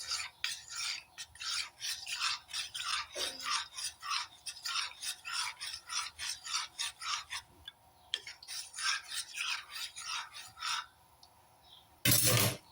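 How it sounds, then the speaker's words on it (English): A spoon scrapes and rubs rhythmically around a container while mixing cooking oil, a steady run of close, gritty strokes at about two per second before a brief sharper clatter at the end. "Then just mix using this spoon, guys. So mix it."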